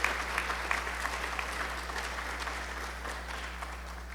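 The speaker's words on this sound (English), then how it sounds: "So parents, a round of applause for our parents and guardians." Audience at a high school awards night applauding parents and guardians, a steady wash of clapping from many hands at moderate distance, lasting throughout without talking, over a low electrical hum.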